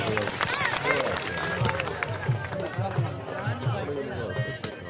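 An audience at a Khushab stage event applauds a guest, with a scattered round of hand clapping that builds over a few seconds beneath a man's ongoing speech and crowd chatter.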